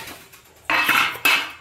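Metal plates and dishes are picked up in a home kitchen while phuchka is being served: two sharp, close clattering clanks, each ringing briefly before fading.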